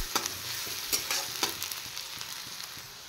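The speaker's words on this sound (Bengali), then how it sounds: "এবার হালকা একটু ফ্রাই করব" Chopped onion and garlic frying lightly in a pan, a quiet steady sizzle with occasional stirring scrapes, no voices.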